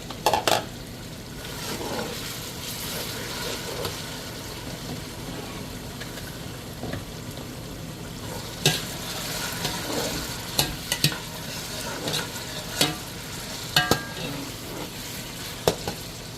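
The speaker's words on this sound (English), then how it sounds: "I'm still frying that because I really want to give that a good fry" Onions frying in a pot for Nigerian tomato stew, a steady close sizzle with scattered sharp clinks and scrapes of a spoon against the pot, no voices.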